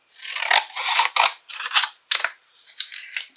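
Scissors snip through 80-pound cardstock in a run of short, close cutting strokes, each a crisp rasping slice with brief pauses between, heard alone with no talking.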